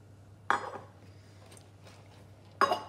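A utensil clinks against a bowl twice, sharp close knocks about two seconds apart with faint scraping between, while almond powder is mixed in for an almond crunch batter.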